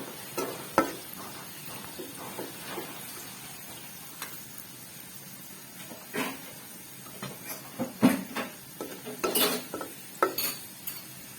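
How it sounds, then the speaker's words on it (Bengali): Napa greens cook in oil with garlic, a moderate sizzle beneath irregular clinks and scrapes of a utensil stirring against the pan, some strokes loud and close. "এই শাকটা কিন্তু রসুন দিয়েই তেলে দিতে হয়"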